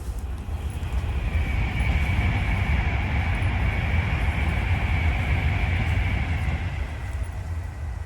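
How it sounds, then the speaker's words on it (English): A train rumbles past out of sight during a countryside walk near a re-wilded quarry and historic lane, a steady, fairly distant low roar that holds for several seconds with no talking over it. "Oh, I hear a train."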